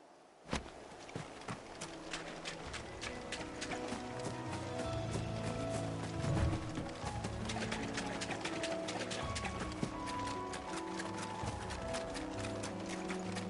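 Chocobos running in Final Fantasy XVI, a rapid rhythmic patter of hoof-like footfalls with bird-like calls, steady and moderately close over a swelling musical backdrop, after an initial sharp hit.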